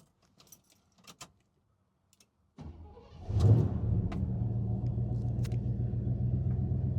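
A few small clicks and key jingles, then a 1971 Oldsmobile Cutlass Supreme Rocket 350 V8 cranks and catches, settling into a steady, deep idle rumble close by.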